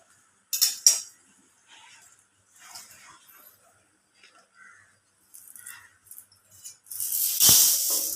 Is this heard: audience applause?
no